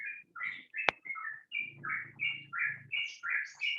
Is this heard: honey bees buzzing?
no